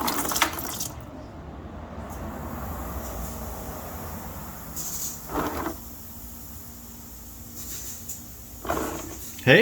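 Transmission fluid from a 2007 Volvo S40 runs out of the drain plug hole into a drain pan, a steady close pouring trickle broken by a few clunks and shuffles.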